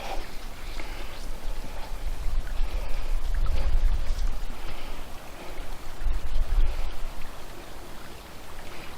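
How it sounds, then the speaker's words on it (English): Sutton Creek near a campground in Florence, Oregon, flows with a steady broadband rush of water, fairly close and constant, swelling slightly midway before easing off. "Sutton Creek."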